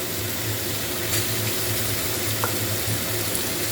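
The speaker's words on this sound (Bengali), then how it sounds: "দুটো একসাথে দিয়ে ভেজে নিচ্ছি" Sattu and potatoes frying together in a pan give a steady, close, broadband sizzle with a low bubbling hum, continuous and even throughout with no talk.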